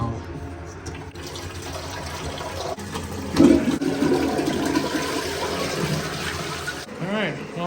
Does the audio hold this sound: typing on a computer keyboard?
no